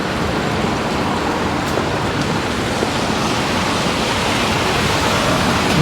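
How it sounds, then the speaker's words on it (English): A dense, steady rush of rainwater pouring off a building facade in Sydney fills the air, loud and unbroken, like heavy runoff splashing down nearby. "Look at the water kicking off St James's Arcade here, off the building facade."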